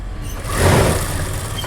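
Sewing machine stitching kurta fabric for a stand collar, a brief close run of motor whir and rapid needle clatter that swells slightly midway.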